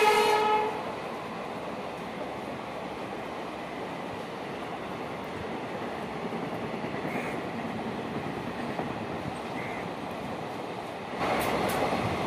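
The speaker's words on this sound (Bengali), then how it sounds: "প্রচণ্ড পরিমাণে শব্দ করে ইঞ্জিন ছুটে এসেছে থ্রু ট্রেন" A through train with its engine roaring past up close, a loud, steady rumble of rolling wagons lasting throughout, with horn-like tones at the very start.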